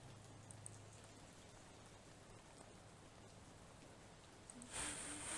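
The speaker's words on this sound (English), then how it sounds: "the constant rain sounds is really nice" Constant rain ambience in the horror video game How We Know We're Alive, a soft steady patter that stays faint and even throughout, with a brighter rise of sound near the end.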